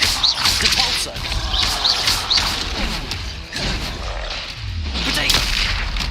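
Spell effects in the Hogwarts Legacy video game, including Repulso, burst as loud cracks and booming blasts with swooshing tails and a low rumbling impact near the end, over busy combat noise.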